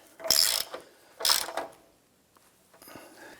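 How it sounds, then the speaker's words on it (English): A hand ratchet snugs up the steering rack bolts on a 2007-2014 Cadillac Escalade in two close, quick clicking bursts, followed by a fainter third burst. "Go ahead and snug up the bolts."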